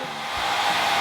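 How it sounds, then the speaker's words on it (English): A hair dryer blowing in a kitchen with a loud, steady whooshing roar that swells slightly and holds constant, close by. "So sorry about the noise, but the hairdryer is going"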